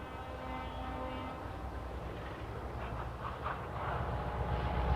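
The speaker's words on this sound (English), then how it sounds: "The diesels that will take her to Halifax cross the yard." Diesel locomotives cross a rail yard in 1958, a steady heavy rumble of engines with wheel and rail noise, close and continuous, building slightly toward the end.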